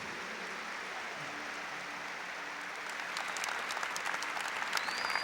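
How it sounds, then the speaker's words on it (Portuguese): A church congregation at a Catholic Mass applauds together, a steady wash of clapping from many hands that swells louder toward the end, heard from a distance in a large reverberant space. "Aplauda a palavra de Deus"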